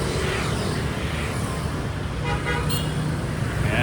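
Street traffic at night in Tan Binh District, Ho Chi Minh City, with cars and motorbikes making a steady loud roar and a car horn tooting briefly partway through.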